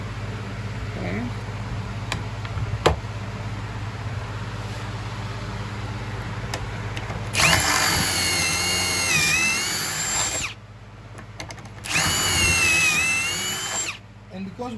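A power drill bores pocket screw holes in wood for a custom mirror frame, in two loud whirring bursts of about three seconds each, with brief pauses and quieter workshop sounds before them.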